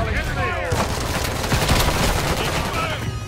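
Dense, loud gunfire in the Call of Duty Modern Warfare III video game, rapid overlapping bursts and booms filling the whole moment with battle noise and no clear break.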